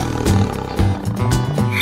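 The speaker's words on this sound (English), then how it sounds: "Tiger." A tiger roar in a cartoon wild-animal sequence: a loud, continuous, rumbling growl that swells in several pulsing surges across its short length, heard alone.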